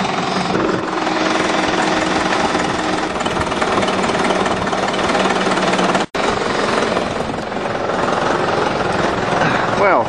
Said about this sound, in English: I'll pick it up with a tractor now.